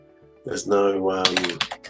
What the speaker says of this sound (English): right now we're typing and everything's fine